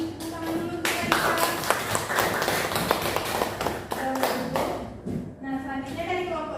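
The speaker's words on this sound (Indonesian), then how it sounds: "Masih tepuk tangan dulu untuk Raisa." Students in a classroom clap their hands for a classmate, a brisk scattered patter of claps at moderate level running for several seconds, with voices talking over it.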